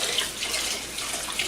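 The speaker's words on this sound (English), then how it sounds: "draining your rice like that" Rinsed rice drains as a steady, continuous wash of water, fairly close and unbroken, with no talk.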